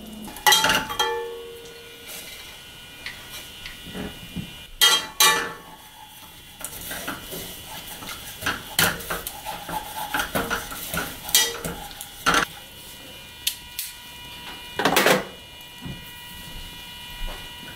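A utensil clinks and scrapes against a pot while a butter and oat-flour roux cooks, irregular metallic knocks and stirring scrapes over a faint sizzle, with a few louder clanks.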